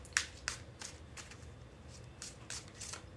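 Tarot cards are shuffled by hand in a few quick riffling bursts, close and fairly quiet, with brief pauses between them.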